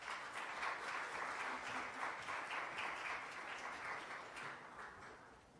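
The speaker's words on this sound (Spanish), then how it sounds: "Recibámosla con un fuerte aplauso." Audience applause greets someone speaker at an academic talk on entrepreneurship and innovation at ULACIT, a steady, fairly dense wash of clapping from a mid-sized crowd that holds throughout and tapers slightly at the end.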